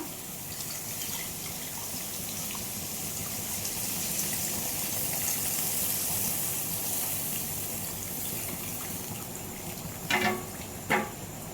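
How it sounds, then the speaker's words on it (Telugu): Tamarind juice is poured into a simmering masala vada curry, a steady soft liquid gush lasting several seconds, followed by two brief sharp clinks near the end. "ముందుగా కలిపెట్టుకున్న చింతపండు పులుసు పోసుకుంటున్నా"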